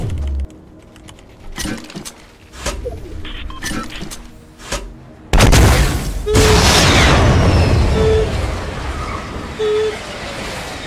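A rocket explodes in Fortnite with a loud, broad boom about halfway through, followed by a long roaring rumble. Sharper game impacts and clicks come before it, and short tonal beeps sound during the rumble.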